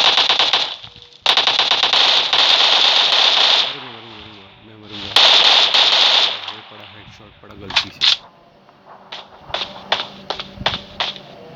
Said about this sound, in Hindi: कितनी गोलियां बर्बाद हुई यार उसके में